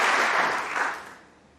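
Snooker crowd applauding at the 2022 final between Ronnie O'Sullivan and Judd Trump, a short burst of clapping that fades quickly.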